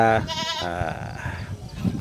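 Goats on a goat farm bleat loudly and close by, with several wavering calls overlapping early on, then fainter bleats over a background of barn noise.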